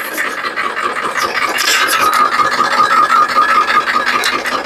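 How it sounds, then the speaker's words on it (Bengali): A vehicle engine is started and runs, giving a loud, steady, coarse rasping roar that swells slightly after the first couple of seconds, with no talking. "ইঞ্জিনটা স্টার্ট করে আপনাদের সাউন্ডটা শোনাচ্ছি।"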